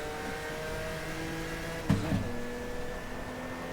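A stock car engine in the Stock Car Extreme racing game drones at a steady high pitch, with a brief louder bump midway before the steady hum resumes.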